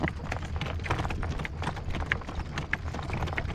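A horse's hooves strike the ground in a working trot, quick regular clip-clop beats close by against wind and rustling outdoors, with a faint voice at times.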